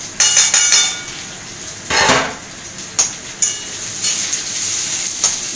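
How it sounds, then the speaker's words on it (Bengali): Potatoes frying in a pan give a soft continuous sizzle, broken by occasional scrapes and clinks of a spatula stirring against the metal. "আলুটা একটু ভাজা ভাজা করতে হবে"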